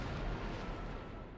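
A deep, rumbling explosion from the video game Trails into Reverie, a single heavy low boom that rolls and fades over about a second, loud and close.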